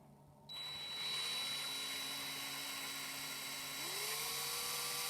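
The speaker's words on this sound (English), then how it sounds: "make sure the drill bit's straight this way and straight that way." A high whining drill runs continuously after a brief quiet start, boring by hand into a metal Matchbox toy car, its pitch steady then shifting upward near the end as the bit bites in.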